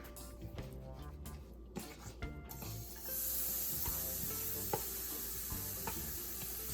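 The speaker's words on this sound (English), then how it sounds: "Allow your ginger and garlic to saute for about 30 seconds." Ginger and garlic saute in a tablespoon of sesame oil, a quiet hiss rising into a steady sizzle partway through, set against a looping music track.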